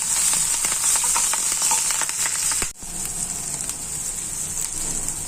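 Onion, green chilli, turmeric, curry leaves and coriander fry hard in hot oil for a samosa filling, a dense crackling sizzle with stirring clicks that dips briefly and then carries on slightly softer.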